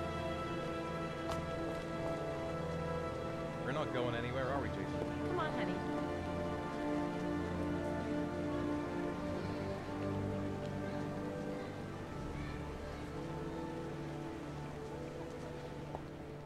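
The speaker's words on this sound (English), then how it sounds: "So many raindrops." Rain falls steadily in the video game Heavy Rain, a constant wash of patter heard beneath loud game music and a brief voice.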